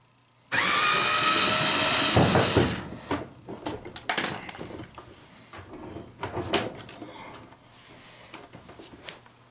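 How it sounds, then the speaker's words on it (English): A power driver whirs loudly for about two seconds backing mounting screws out of the side slots of a condensate pump tank, followed by scattered clicks, taps and handling knocks nearby. "I'm going to take out the mounting screws that are in the slots on the side of the tank."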